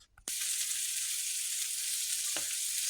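Flour-coated fish sizzles steadily in a hot pan, a constant bright crackle after a brief clatter at the start, with one small knock later.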